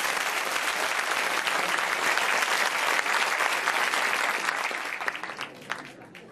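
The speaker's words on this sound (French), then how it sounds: "on l'applaudit très fort encore une fois" Loud, dense audience applause at a live French comedy show fills the hall evenly, then thins and tapers off near the end.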